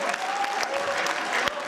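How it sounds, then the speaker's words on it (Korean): Applause ripples through a room of political party members welcoming a new committee role, a brief, even wash of clapping with a few sharper claps standing out. "박수 한번 주십시오."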